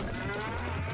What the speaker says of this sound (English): don't be mooing